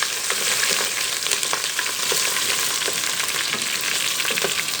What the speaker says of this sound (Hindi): ये 2 हरी मिर्चें डाल दी हैं, अच्छे तरीके से हिला लेंगे।